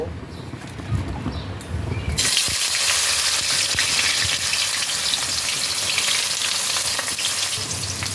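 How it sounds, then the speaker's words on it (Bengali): Bitter gourd pieces hit hot oil in a wok, a loud, dense sizzle erupting about two seconds in after a quieter start and holding steady and close to the end. "কড়াইতে এবার তেল নিয়ে নিয়েছি তেলটা ভালোভাবে গরম হয়ে গেছে এই তেলে এবার আমি উচ্ছেগুলোকে ভেজে নেব"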